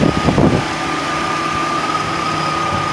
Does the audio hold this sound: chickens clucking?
no